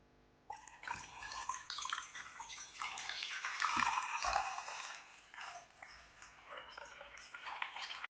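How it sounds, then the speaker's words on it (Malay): Water pours steadily for several seconds before a spicy instant noodle and fried chicken meal, a continuous splashing stream that swells midway and then thins out. "Jom, kita tuang air dulu guys."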